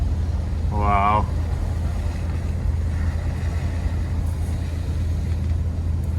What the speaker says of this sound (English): It's just idling so high, it just wants to go.